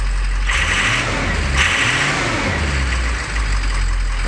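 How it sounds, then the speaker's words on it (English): A 2003 Ford 6.0 Powerstroke diesel truck engine with 376,000 miles and a loss-of-power fault runs loudly nearby, its steady rumble swelling in two short revs before settling back to a rough idle. "Oh, it sounds good. This truck runs amazing."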